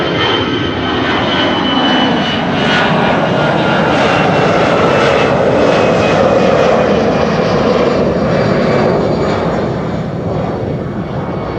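An Airbus A350 jet roars loudly and steadily on its takeoff run from runway 24 at Schiphol, a broad, sustained engine thrust with a rising whine that holds close and strong throughout.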